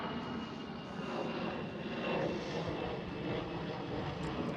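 A Swiss airliner at Schiphol Airport in Amsterdam gives off a steady, broad engine roar from a moderate distance, swelling slightly midway with no speech.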